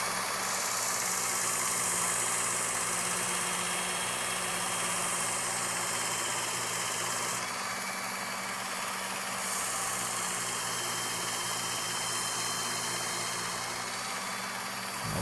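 A Work Sharp powered belt knife sharpener runs steadily while its fine belt cleans the burr and polishes a blade edge, a continuous motor whir and belt hiss with a brief shift in tone midway.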